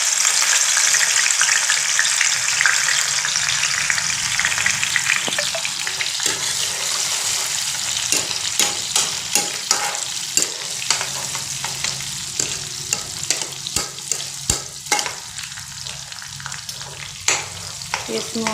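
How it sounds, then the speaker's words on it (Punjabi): Green chillies sizzling in a hot pan as they are stirred, a steady loud frying hiss broken by frequent scraping and clinking strokes of the spoon. "ਸਭ ਤੋਂ ਪਹਿਲਾਂ ਆਪਾਂ ਹਰੀ ਮਿਰਚ ਪਾ ਦਾਂਗੇ ਜੀ"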